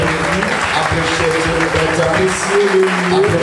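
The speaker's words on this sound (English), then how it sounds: "Put your hands together for him." Worshippers at Dominion Cathedral in Lome, Togo, applaud during Sunday service, a loud continuous roar of clapping with voices and shouting woven through it.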